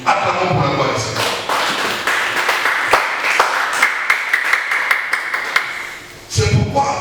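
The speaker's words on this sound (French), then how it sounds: "Acclamons pour la gloire du Seigneur" Congregation in a church applauding together, a dense steady patter of many hands clapping with sharper individual claps standing out, running for several seconds before breaking off as voices resume.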